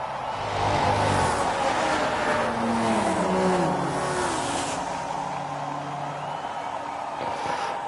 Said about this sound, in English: The Lamborghini Hurricane